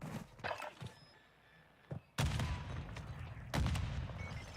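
Automatic gunfire from an RPK machine gun in Warzone 2.0, with a few short bursts early on, then two sustained loud volleys that ring out close and heavy over a low rumble.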